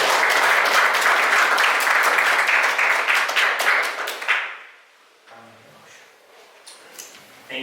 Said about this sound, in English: Let's make a round of applause for